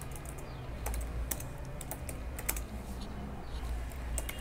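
Computer keyboard typing a placeholder into an HTML input field, quick irregular key clicks at close range, steady and fairly soft throughout with no talk.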